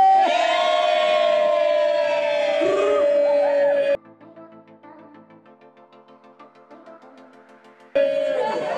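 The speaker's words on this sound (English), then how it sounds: "Everyone give me a big cheer, yeah!" A wedding party cheers together for the photographer, a burst of loud, voiced shouts and whoops that fades to quieter scattered voices before another loud cheer rises at the end.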